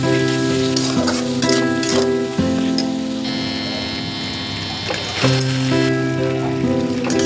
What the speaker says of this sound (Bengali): লঙ্কা পাউডার, ধনিয়া পাউডার দিয়ে মশলাটা ভালো করে কষিয়ে নেব